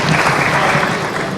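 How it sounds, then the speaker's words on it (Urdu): Dense, steady applause from an audience at an alumni reunion in a hall, a loud continuous clatter of many hands throughout. "آپ تالیاں بجا کر ان کی اس کاوش کی داد دیں"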